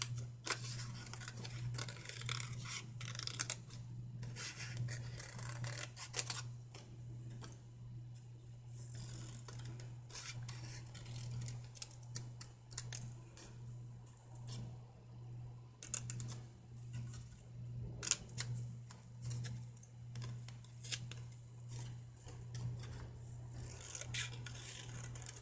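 Scissors snip and trim through craft material for a Christmas project, a steady series of close, crisp cuts and rustles over a constant low electrical hum.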